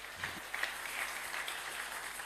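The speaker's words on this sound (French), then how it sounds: "acclamons pour elle" An audience claps together at a gathering, a steady, dense patter of many hands lasting a couple of seconds at moderate distance, fairly soft overall, with no voices over it.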